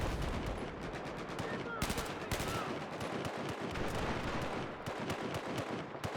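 Rapid gunfire from a Battlefield 4 match, dense overlapping bursts and single cracks crowding the whole stretch, some close and loud, others farther off, with no pause in the shooting.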